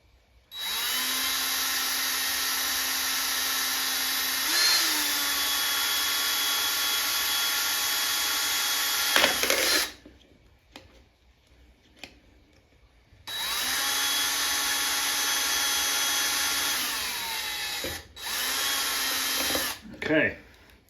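A power tool fits rivets into an arcade coin door on a Satan's Hollow cabinet under restoration, heard up close as two long, steady whining bursts separated by a quiet pause, with a short extra burst near the end.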